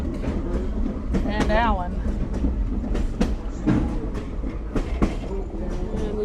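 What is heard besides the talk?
caboose riding on Lehigh Gorge Scenic Railway train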